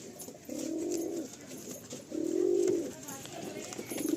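A pigeon at a loft coos nearby in three low, throaty bursts, each about half a second long, with quiet rustling between them.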